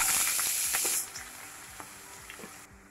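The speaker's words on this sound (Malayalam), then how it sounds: "ഇതിലേക്ക് നമ്മളിപ്പോൾ ചെറുതായിട്ട് കട്ട് ചെയ്ത് വെച്ച ചെറിയുള്ളി ഇട്ട് കൊടുക്കാം." Chopped small shallots hit hot coconut oil in a pan, a loud steady sizzle and hiss right up close, easing slightly after the first second while frying continues with faint stirring.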